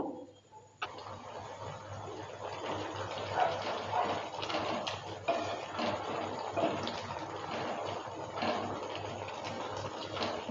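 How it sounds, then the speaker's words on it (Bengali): Masoor dal cooked with raw banana boils hard over high heat on a gas stove, giving a steady bubbling, churning wash that swells and eases under quiet background noise. "দুই থেকে 3 মিনিট সময় নিয়ে হাই স্পিডে ফুটিয়ে নেব"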